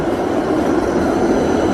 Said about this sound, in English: the tram are moving very fast